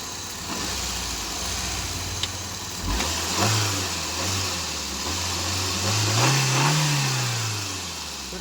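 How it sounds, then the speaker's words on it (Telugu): A 2007 Maruti WagonR LXi petrol engine runs close by, a steady mid-pitched idle hum with a couple of light revs rising and falling, loud and alone. "ఇంజన్ అనేది గుడ్ కండిషన్లో ఉంది. అసలు ఇంజన్ అనేది అసలు కదలడమే లేదు."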